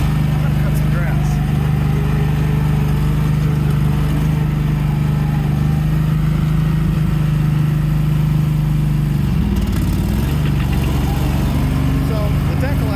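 A neglected 1998 Yazoo YTKC22 three-wheel mower engine that has been stalling on bad gas runs steadily at idle while warming up, a continuous close rumble with a brief dip in tone near the end.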